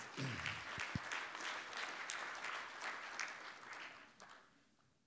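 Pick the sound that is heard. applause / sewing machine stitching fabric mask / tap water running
applause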